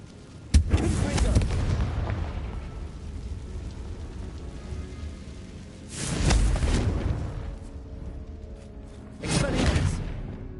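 Confringo fire spells blast in the Hogwarts Legacy game, giving three loud booming bursts with crackling, rumbling tails, spaced several seconds apart over a low, rain-like ambient wash.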